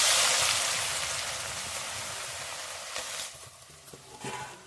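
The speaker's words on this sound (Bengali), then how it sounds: "নেড়ে চেড়ে এইভাবে ভেজে নেব।" Shredded potatoes fry in hot oil while being stirred, a steady bright sizzle that is loudest at first and then eases off, with a few soft clinks from the utensil.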